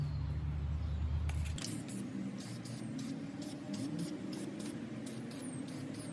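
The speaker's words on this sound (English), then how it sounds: "we're going to be spraying it flat black" Aerosol can of Rust-Oleum 2x Ultra Cover flat black paint and primer sprayed onto dresser hardware, giving steady hissing bursts after a brief low rumble at the start, close and moderately loud with no talking.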